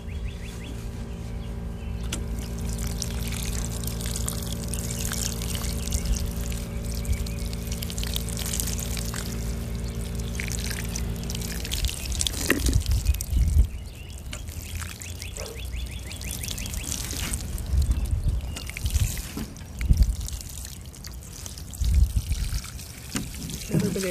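Water poured from a can over freshly transplanted winter-sown radish seedlings in soil, a steady trickling pour that runs for about twelve seconds with a held tonal hum beneath it, then gives way to quieter rustling and handling.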